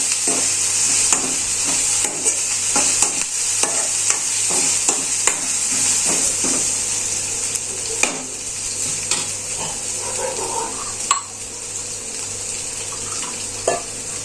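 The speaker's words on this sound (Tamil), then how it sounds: "பச்சை வடை போகிற வரைக்கும் நல்லா வதக்குங்க" Food sizzles in a pan while a utensil scrapes and stirs it during the sautéing of a green pea kurma, with repeated knocks against the pan over a steady frying hiss.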